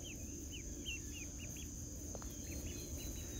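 A young Pekin duck gives a series of short, high peeping calls in quick bursts, fairly faint over a low background rumble, with no voices.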